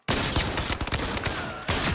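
Heavy gunfire in the VR shooter Zero Caliber: Reloaded, a dense, continuous barrage of rapid overlapping shots with a fresh loud burst near the end, no voices.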